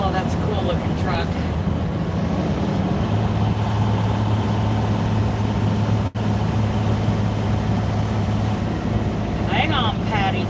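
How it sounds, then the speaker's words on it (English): Heavy highway traffic rumbles steadily and close, with a big truck's low engine drone rising partway through and holding loud to the end, under constant road and wind noise from inside a moving truck cab. "Oh, that's a cool looking truck."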